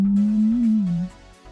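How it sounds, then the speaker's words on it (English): A pure sine tone left after a strict 350 Hz low-pass filter hums steadily for about a second, wavering slightly in pitch, then cuts off into near silence with faint residue. "It sounds like a sine wave"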